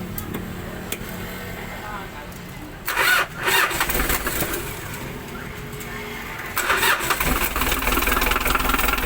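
A newly repaired engine is started: a starter cranks, the engine catches with a rough burst, and it then settles into a close, steady idle, with a second rev-up later and faint voices in the background.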